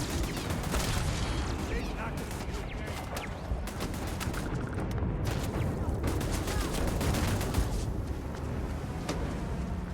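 Turret gunfire in the sci-fi shooter Starfield: rapid, continuous bursts of shots crackle over a dense rumbling bed of combat noise for the whole stretch, loud and relentless.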